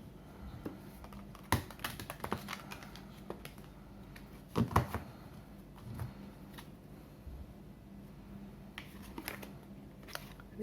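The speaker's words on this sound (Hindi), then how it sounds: "One more shuffle." Tarot cards being shuffled by hand, heard close up as soft, papery riffling clicks that come in uneven bursts, with sharper snaps near the start and middle, and no talking.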